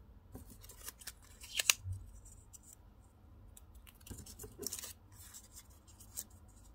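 Scissors cutting out folded paper butterflies for home decoration: faint, close snips and crisp paper rustles at irregular intervals, with no talk.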